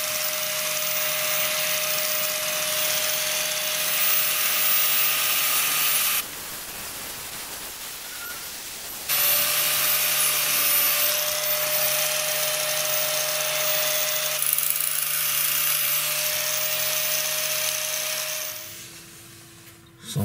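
Angle grinder smoothing uneven spots on a motorcycle brake caliper during an NSR50 restoration, a loud steady high-pitched whine that drops to a duller tone midway, resumes, then winds down at the end.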